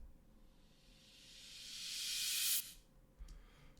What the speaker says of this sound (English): Reverse cymbal, pretty standard.